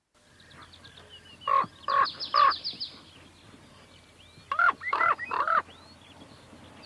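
Common cranes on marshland bog give two loud bursts of trumpeting, bugling calls, a group of three notes followed after a pause by another cluster, ringing clearly over a quiet background.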